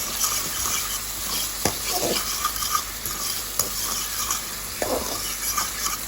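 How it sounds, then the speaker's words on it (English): Scallion, garlic and pepper sauté in a pan, sizzling steadily up close while a utensil occasionally scrapes and stirs through them. "I added the scallion, garlic, and the pepper, and I'm going to saute this."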